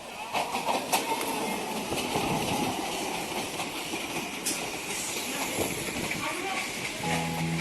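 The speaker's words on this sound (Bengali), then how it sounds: "রেল লাইনে ঘর ঘর শব্দ উঠছে। ট্রেন সত্যি সত্যিই এসে গেল।" A train rumbling along a railway line as a sound effect in an audio drama, a continuous dense roar with hissing and a few sharp clanks, heard under a voice speaking.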